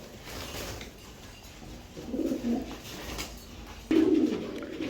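Two pigeons coo softly nearby, a pair of short throaty calls rising out of a quiet, faintly noisy background.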